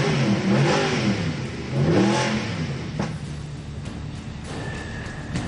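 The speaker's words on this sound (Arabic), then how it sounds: "تسمح لي اجرب بس صوت السياره؟" The engine of a Mercedes S63 at a luxury car showroom revs up twice in loud, close throaty surges, then drops to a rumbling idle with faint clicks and a short whine near the end.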